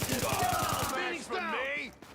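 Rapid repeating gunfire from a video game shooter, fired in a quick regular burst at headshot targets, loud and close, then giving way to speech for the rest of the moment.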